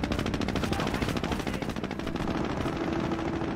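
Sustained rapid machine-gun fire and gunshots in the World War II strategy game Company of Heroes, skirmish on the Sturzdorf map, a dense continuous rattle of bursts with no talk.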